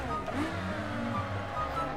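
A powerful sports car engine in BeamNG revving steadily with a throaty low drone and shifting pitch, loud and continuous throughout.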